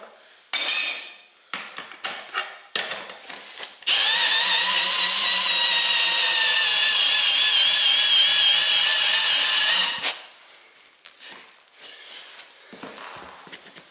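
A power tool with a 1 3/16 socket drives a portable tire bead breaker on an industrial tire rim, a loud steady whine of about six seconds, framed by metallic clanks and rattles before and after.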